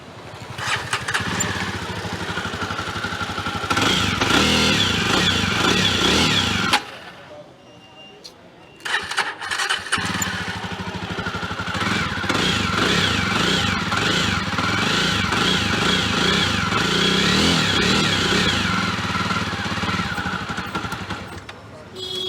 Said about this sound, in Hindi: this is our stock exhaust sounds on this Java Perak